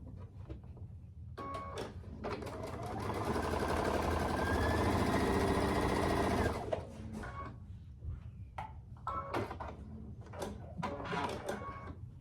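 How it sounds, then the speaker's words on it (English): A sewing machine stitches quilt block pieces together in a steady whirring run of about four seconds, followed by quieter clicks and fabric handling close by. "I'm going to sew them together"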